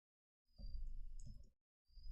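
Keys clatter on a computer keyboard while text is typed in the vi editor, a quick, dense run of clicks that stops, pauses briefly, then resumes, close and with no talking.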